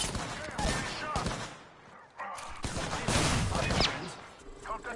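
Gunfire in a multiplayer shooter: clusters of rapid shots and bursts, fairly close, that come and go with a brief lull midway, mixed with game effects and some talk.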